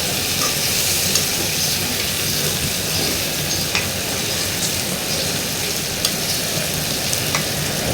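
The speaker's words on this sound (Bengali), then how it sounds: "এই যে কষাচ্ছি।" Jackfruit seeds and dried fish stir-fry in a hot pan with a loud, steady sizzle, while occasional scrapes of the spatula tick through the frying; no one speaks.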